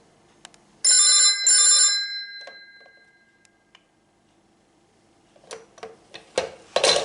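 Two loud bursts of bell ringing from an old telephone on a PABX landline, close and clear. Quiet clicks and handling knocks follow, then louder clattering thumps near the end.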